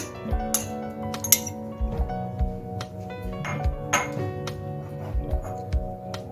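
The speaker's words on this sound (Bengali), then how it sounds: "আমি একটা মিক্সিং জারে আমগুলো নিয়ে নিচ্ছি" Ripe mango pieces go into a glass mixer jar, making several bright clinks and knocks of fruit and jar. Soft tonal music plays steadily underneath.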